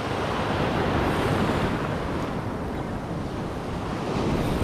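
Ocean waves at a fishing spot, a continuous broad wash of surf with steady wind noise on the microphone, fairly loud and even throughout, with no voices.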